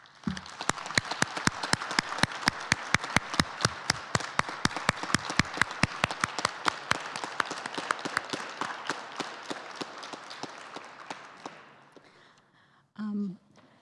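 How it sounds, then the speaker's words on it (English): An audience applauds at the WSU Women of Distinction and Woman of the Year awards ceremony, with loud, dense clapping sustained for about twelve seconds before fading out, followed by a brief close bump. "let's give everyone a round of applause"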